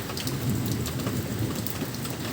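Heavy rain pours down steadily, a dense hiss of drops hitting surfaces, while low rumbling thunder rolls underneath throughout; no voices are heard.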